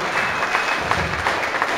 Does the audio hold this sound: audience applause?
yes